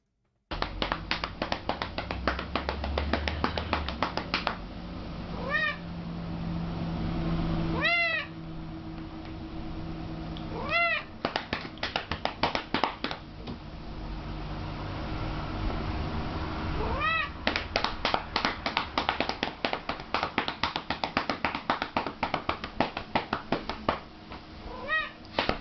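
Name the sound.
cat meowing while having its rump patted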